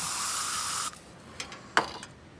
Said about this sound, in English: spray some spray on it.